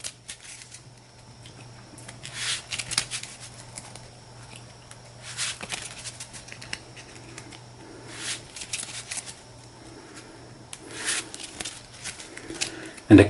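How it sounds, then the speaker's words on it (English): A deck of playing cards gets shuffled at a tabletop game session, with repeated short riffling bursts coming in close, fairly soft rounds over a quiet room background. "Give this a shuffle."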